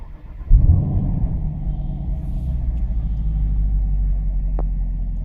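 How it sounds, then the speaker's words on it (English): A 2020 Chevrolet Camaro SS Hendrick Motorsports Edition V8 pulls away on the road, a deep close rumble swelling after a brief start, then a steady low drone while cruising, with no talk. "just cruising along in the Hendrick Motorsports Camaro SS"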